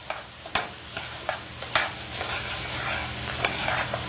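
Fresh peas, about a pound, stirred in a pot for pea soup, giving a steady soft scrape and rustle with a few sharper clicks of the spoon, with a faint sizzle underneath and no talk.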